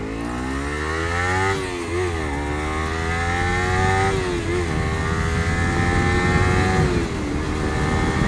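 A Kawasaki Ninja sport motorcycle accelerates from low speed, its engine note rising through several gear changes with brief dips between them, loud and close, with no talking.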